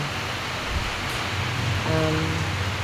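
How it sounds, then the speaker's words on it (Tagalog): Heavy rain during Typhoon Uwan in Mulanay, Quezon, a dense, steady hiss of downpour with a brief low tonal hum near the end. "Malakas na yung ulan ngayon."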